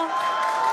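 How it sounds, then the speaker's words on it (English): Crowd at a SpaceX Starship launch cheering and clapping, a brief, steady roar of excited voices and applause with a faint tone running through it. "you can hear the crowd is very excited about it"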